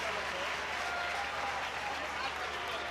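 Home fans cheer and applaud at a women's Six Nations rugby match between Italy and France, a broad, steady stadium roar that fills the whole stretch under a commentator's voice.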